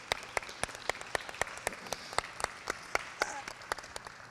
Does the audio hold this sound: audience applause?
yes